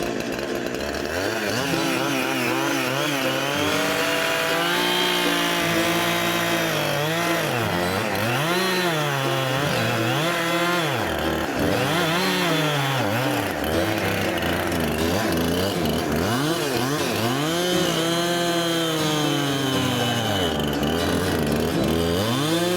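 A gas chainsaw bites into a log, its engine pitch rising and dropping in repeated waves as the chain bogs and revs through the wood, loud, close and continuous.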